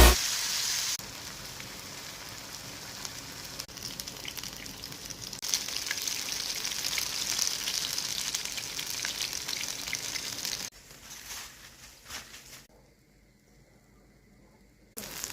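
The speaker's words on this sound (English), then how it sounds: "So I'm just waiting for these to fry" Jamaican salt fish fritters fry in hot oil with a dense, steady sizzling hiss that runs for a long stretch before softening and fading toward the end.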